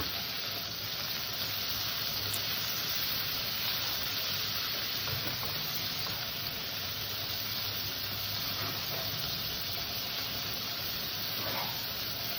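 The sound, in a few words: prawns frying lightly in oil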